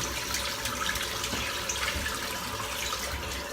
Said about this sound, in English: Cleaning my brush out